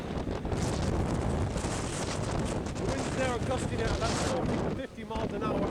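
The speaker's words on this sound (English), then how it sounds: "The wind is definitely strong." Strong gusts of 40–50 mph roar steadily across a valley at an old copper mine, buffeting the microphone with loud, rumbling wind noise throughout, and a voice speaks faintly beneath it.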